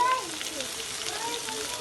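Onions dropped into hot oil for a Bengali fish curry with potatoes, a continuous close hissing sizzle starting with a brief louder burst, with a voice talking over it.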